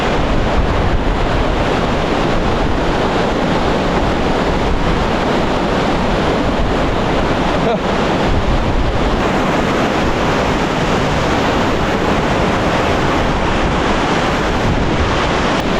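A waterfall in remote Swedish mountains roars up close, dense spray and rushing water forming a loud, unbroken wash with wind buffeting the microphone.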